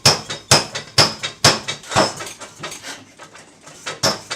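A blacksmith pounds a red-hot steel hammer head on an anvil, fanning out its larger end. Loud, ringing metal strikes fall in a steady rhythm about twice a second, with some lighter taps in between.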